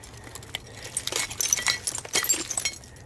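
A piece of an old glass bottle is handled while digging among roots, giving light clinks and gritty scrapes that grow busier toward the end, close and fairly faint.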